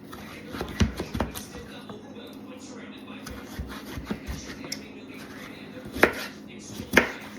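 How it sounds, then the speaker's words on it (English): Sweet potatoes are sliced with a knife on a board, making irregular soft cuts and a few sharper knocks, two of them clear near the end, all heard fairly faintly. "So you just want to slice your sweet potatoes up like this."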